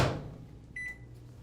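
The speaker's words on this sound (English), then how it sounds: "pop it in the microwave one last time for that last minute of cooking" A microwave oven cooking a quinoa mushroom risotto casserole with kale hums steadily, preceded by a thud of the door closing and followed by a short beep.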